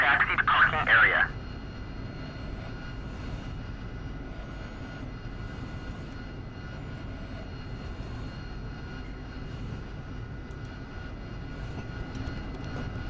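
Jet aircraft taxiing to parking in the DCS flight simulator game, a steady broadband engine drone held throughout with occasional faint high chirps, while a radio voice talks briefly at the start.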